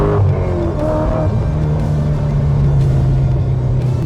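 A 2007 Corvette C6 Z06 with reworked heads, a cam and full exhaust drives on a racetrack, its engine holding a loud, steady droning note throughout with a slight rise in pitch early on.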